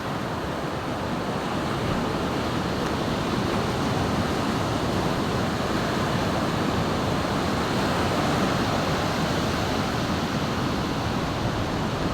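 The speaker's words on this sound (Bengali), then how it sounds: "এই যে দেখুন ঢেউগুলো তীরে এসে কিভাবে আছড়ে পড়ছে" Morning sea waves crash on the shore at Kuakata beach in a continuous loud, broad roar of surf, with no clear voices over it.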